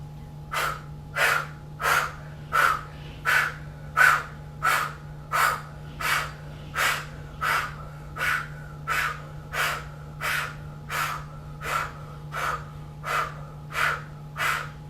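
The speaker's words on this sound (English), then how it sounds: "Now inhale through your nose and force your breath out." A person doing home yoga breathes forcefully out through the nose in a steady series of about twenty sharp, rhythmic exhalations, each a short loud puff close to the microphone, with a low hum underneath.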